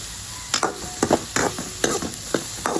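A spoon stirs spices in a cooking pan in a regular rhythm of scraping strokes, about two per second, over a light sizzle close by.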